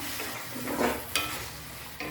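Ground curry paste sautéed in a pan on high flame sizzles softly while a spoon stirs and scrapes, with a few sharper clinks, close and quiet, with no talk.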